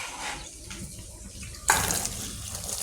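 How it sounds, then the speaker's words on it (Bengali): Running tap water splashes over hands at a sink, a soft trickle that swells into a louder, steady gush midway through, heard close with no talking. "হাতটা ধুয়ে নেবো আমি এখন।"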